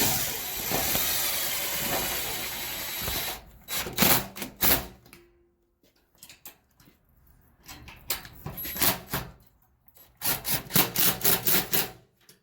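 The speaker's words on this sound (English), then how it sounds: "I'm just going to put a nut on the inside to keep these from backing out" A nut run onto a bolt on a small trailer, with a stretch of rough scraping and rubbing, then a silence, then bursts of short metallic ratcheting and turning strokes, close and fairly loud.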